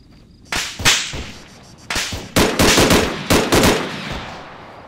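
Gunfire in the Arma 3 military game, using the Breaking Point survival mod: several sharp, loud close-range shots arriving in scattered bursts, some single and some in quick rapid clusters, with no talking.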